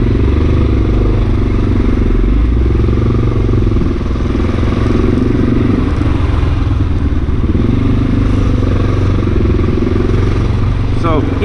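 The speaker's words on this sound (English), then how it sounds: "So he was saying my Lex exhaust was way too loud" Honda XR650L motorcycle fitted with a loud Lex aftermarket exhaust, silencer tip removed, rumbling steadily and loudly at close range throughout, a continuous engine roar with no pauses.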